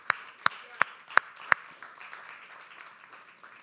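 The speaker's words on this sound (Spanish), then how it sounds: "Denle un aplauso al Señor" A church congregation applauds during a worship service, opening with five sharp, evenly spaced close claps, then trailing off into softer, scattered clapping and murmur.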